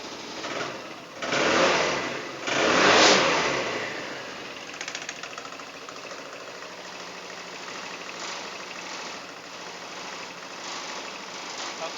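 A Honda SH300i scooter engine runs steadily nearby, with two short revs in the first few seconds before it settles into an even idle hum for the rest.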